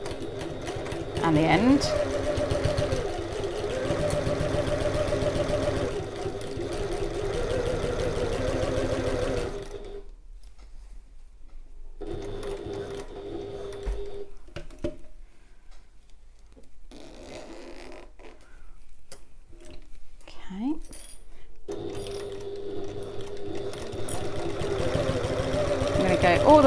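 A sewing machine runs a seam at a 6mm allowance with construction stitch length, starting and ending with back stitching; the motor hums in steady stretches with a pause midway, and a person talks over it.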